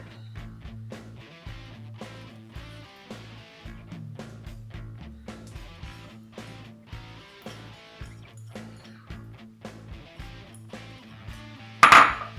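Corn seasoning with finely chopped onion is mixed in a bowl: steady, evenly paced clinks of a utensil against the bowl over a low hum, ending in a sudden louder clatter.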